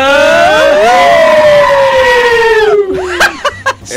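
A voice imitates a wolf call, a long loud falling howl, mixed with a goat-scream sound effect, followed by short choppy yelps and laughter on a radio show.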